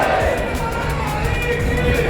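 Dense crowd of devotees in the Khatu Shyam temple courtyard, a loud, continuous roar of many voices and murmuring babble with scattered cheering, close and unbroken.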